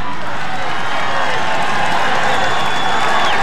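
A loud roadside crowd cheers and applauds a passing rider at a Tour de France stage, a dense, sustained roar of voices and clapping throughout.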